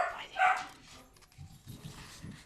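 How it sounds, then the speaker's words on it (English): A dog gives a couple of sharp barks early on, then quieter yips and whimpers follow against a low background. "Stop barking."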